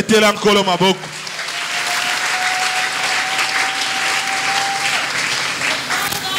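A church congregation at a seminar bursts into sustained applause and cheering, a dense wash of clapping and voices lasting several seconds after a short spoken line.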